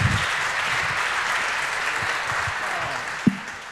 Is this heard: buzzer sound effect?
no